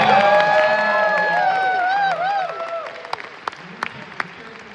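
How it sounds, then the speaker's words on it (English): Audience applause at a film Q&A for LOAFERS at The Music Box theater, heard under a speaking voice at first, then thinning to a few scattered claps as the room settles. "Round of applause."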